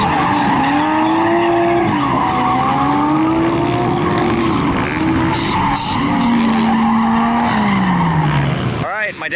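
A turbocharged Subaru BRZ drifts with tires squealing loudly and continuously, the wavering screech riding over engine drone, ending in a sharp swoop as the slide finishes.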